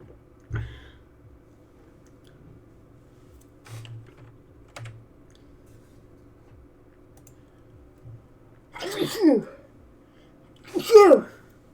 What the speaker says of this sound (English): Sneezing, coughing.